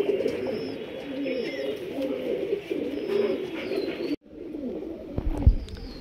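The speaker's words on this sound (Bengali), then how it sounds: "এই যে নেক্সট একটা পায়রা দেখুন এক জোড়া" High flyer and low flyer pigeons coo steadily nearby, a continuous low warbling broken by a brief cut, with faint higher chirps and a short knock near the end.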